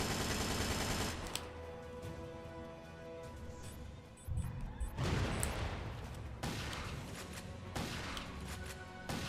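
Rapid gunfire from a boss fight in the video game Headhunter Redux, with bursts and explosive blasts over a continuous loud game soundtrack.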